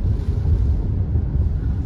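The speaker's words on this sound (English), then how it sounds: "So windy out here. It's pushing the car all over the place." Strong gusting wind buffets the outside of a car during a rain-to-sleet storm near Big Bear, a loud, steady low roar of wind noise with no talk.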